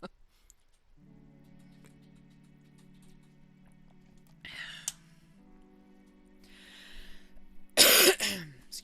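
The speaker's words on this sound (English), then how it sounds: "And I'd be grand if this cough would go away." Two separate bursts of coughing and throat clearing, the second louder and harsher, break up a quiet room with a low steady hum during a relaxed crochet session.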